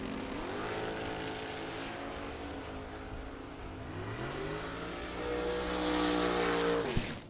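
Two drag racing cars, a Nova and a Camaro, roar down the strip with engines revving and shifting, pitch sweeping up and down, loud and building toward a peak near the end.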